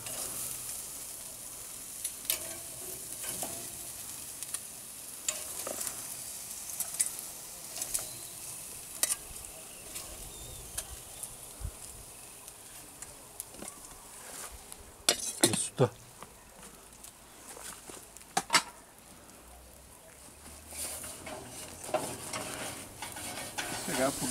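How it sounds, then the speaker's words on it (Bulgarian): Pork neck chops sizzle steadily in a covered pot on a backyard barbecue, a continuous frying hiss broken by occasional metallic clinks and scrapes of utensils against the pot. "Слагаме ги в тенджерка и ще ги заклюпим леко да се задушат."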